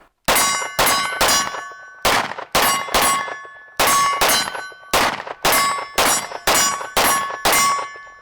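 Pistol shots from an Archon Type B Gen 2 ringing off steel targets at a shooting range, about a dozen loud, sharp clangs in quick bursts, each trailing a metallic ring, with no talking.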